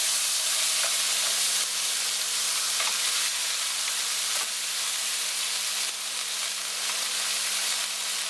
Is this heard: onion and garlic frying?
yes